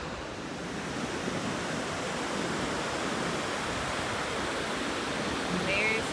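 Steady broadband roar of ocean surf at Ponto Beach, continuous and fairly loud throughout, with wind-like hiss and no clear voices.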